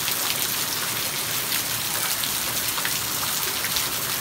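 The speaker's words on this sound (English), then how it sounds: "Look at that rain." Steady heavy rain pattering on surfaces outdoors, a dense, even hiss of drops that continues throughout without talking.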